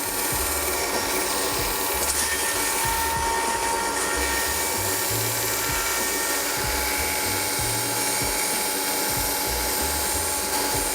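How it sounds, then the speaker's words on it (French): A steady, loud mechanical whir and grinding of a power sander smoothing an eyeglass frame close up, continuous with a rattling, buzzy texture and no talking. "je vais venir affiner les contours de la face, du coup, avec une ponceuse"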